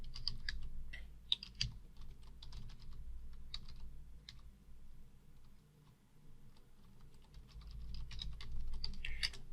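Code being typed on a computer keyboard: fast, irregular clicking keystrokes in close, faint bursts with a short pause midway, over a low background hum.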